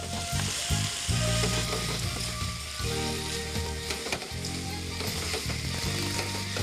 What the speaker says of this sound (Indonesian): Dan masukkan pasta yang telah kita rebus tadi. Aduk bersama-sama.